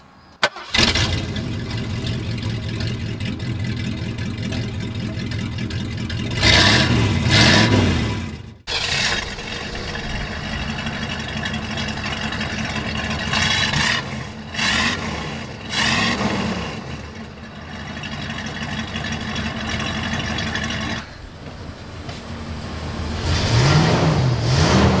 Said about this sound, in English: I got a muffler for this thing, and it sounds, it's almost too quiet